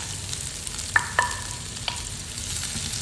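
Liver cooking in a pan, an even close sizzle with a few light metallic clinks from a utensil against the pan, no one talking.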